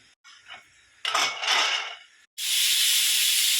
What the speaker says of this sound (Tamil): விசில் வந்துச்சு, ஸ்டவ் ஆஃப் பண்ணிக்கலாம்.